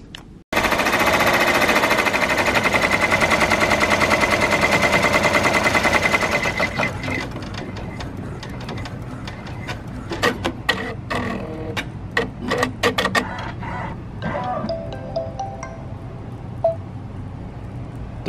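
A home embroidery machine stitches a design on upside-down hooped fabric, first a loud dense rapid chatter for several seconds, then slower, sparser stitching with scattered sharp clicks and taps.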